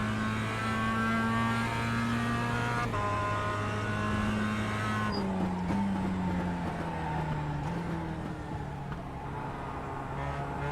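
Mazda MX-5 Cup race car engine in iRacing, driven at Summit Point Raceway's Jefferson Circuit, droning loud and steady throughout, with pitch shifting through gear changes and revs rising and falling, and no talk.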